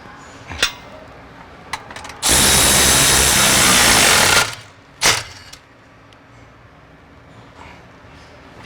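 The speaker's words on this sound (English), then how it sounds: "our next step is to tighten these clamps. And these you want pretty tight." A power tool tightens exhaust clamps on a 2018-onward Maserati Levante V8 during a sport cat install, one loud buzzing burst of about two seconds flanked by sharp metallic clicks and clanks nearby.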